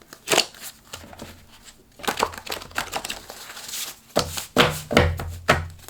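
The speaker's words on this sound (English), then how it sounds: "I have little stickies on these, so it's kind of hard to shuffle" Oracle cards with sticky notes attached being shuffled by hand, giving irregular papery crinkles, flicks and soft thumps in short bursts, close and fairly quiet.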